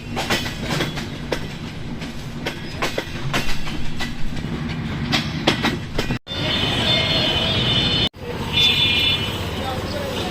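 Silk City Express, the 753 intercity train, running at Abdulpur Junction railway station, with steady loud wheel and carriage rumble and clatter, rhythmic clickety-clack and brief metallic squeal as the cars pass close by, with no talk.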